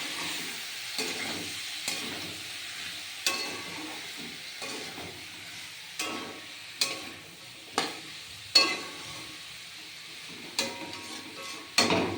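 Potatoes frying in a pan while being stirred, with a soft continuous sizzle beneath repeated sharp scrapes and knocks of the spoon at irregular intervals, close by and without talk.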